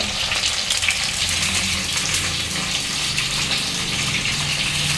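Gravy for gutti vankaya kurma hits hot oil in a loud, dense, continuous sizzle with a rushing, bubbling wash, close and steady throughout.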